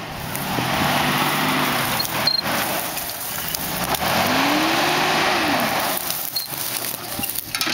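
Toyota pickup truck climbing a steep hill, engine revving hard in rising and falling surges close by, with tires scrabbling and a voice briefly calling out over the noise.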